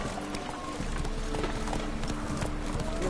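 Hooves of the horse Roach clip-clop in a steady trotting rhythm in The Witcher 3, close and clear over a dense game background.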